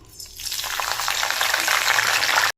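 Washed curry leaves hit hot oil in an iron pan, setting off a sudden crackling sizzle that swells quickly and stays loud and close until it cuts off abruptly.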